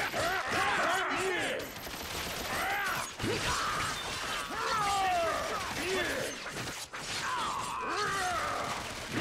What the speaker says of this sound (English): Shots were taken